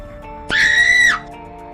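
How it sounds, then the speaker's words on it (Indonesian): A single shrill, piercing scream from a woman rises sharply, holds for about half a second, then cuts off. "Jeritan melengking wanita itu"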